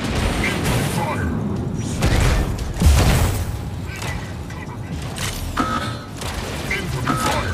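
Incoming weapon fire in the mech combat video game Mech Arena: dense, loud rumbling booms and rattling bursts mixed with mechanical clanks, fairly continuous throughout.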